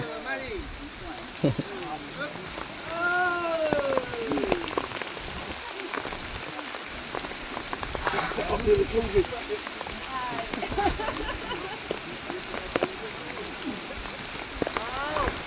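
Rain patters steadily on leaves and surfaces in a forest, a soft continuous hiss with scattered drips, while people talk and laugh over it.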